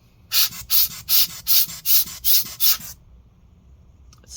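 Laptop fan from a Razer Blade 15 spun by hand during repair, eight evenly spaced whirring bursts in quick rhythm, close and loud, then near silence with a faint click at the end.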